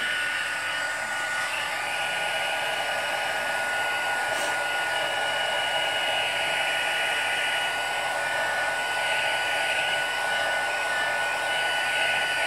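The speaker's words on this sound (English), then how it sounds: "I've given that a wee blast with the heat tool as well because it is pretty wet" An embossing heat gun blows steadily on wet ink for papercraft card making, giving a continuous even airy whir with no pauses or speech.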